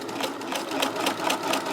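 A sewing machine stitches elastic into a garment cuff with a steady, fast mechanical whirring and rhythmic needle pulses, running continuously up close.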